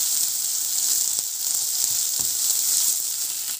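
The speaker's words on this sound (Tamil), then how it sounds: "நல்லாவே வந்து மிக்ஸ் பண்ணிக்கோங்க அந்த கீ எல்லாத்துலயும் வந்து மிக்ஸ் ஆகி வர்றது வரைக்கும்" Grated sweet potato for halwa is sautéed in ghee, giving a loud, continuous, close sizzle with faint stirring scrapes underneath and no voices.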